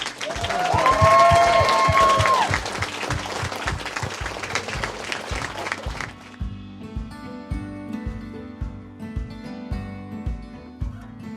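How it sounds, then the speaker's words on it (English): A crowd breaks into loud, sustained applause with some cheering, then the clapping thins and continues more sparsely over background music. "So just a big round of applause for her for pulling everything together and doing a fantastic job."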